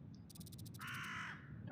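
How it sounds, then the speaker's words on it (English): A crow caws in a deserted countryside game scene: a run of quick clipped calls, then one longer drawn-out caw over a low background hum. "There he is, the occasional crow."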